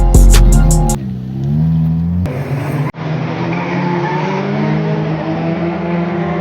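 Drift cars at the Samen track in Mashhad, loud revving engines and sustained squealing tires, with a sharp cut midway before a steady roaring engine drone continues close by.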